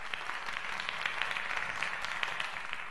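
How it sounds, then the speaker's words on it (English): Steady audience applause from a large crowd at a motivational business event, a dense, even patter of many hands clapping throughout, moderately loud with no voices on top. "Have a big claps for it."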